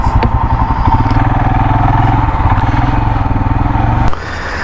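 A Hero Xpulse 200 motorcycle engine runs close by with a loud, rapid, steady thumping that ends abruptly near the close, with no talk over it.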